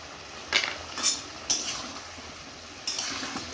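Spices and turmeric for a potato, mango and fish curry are stirred in a pan, four distinct metallic scrapes and clinks of a spoon against the pan over a faint sizzle; no talking.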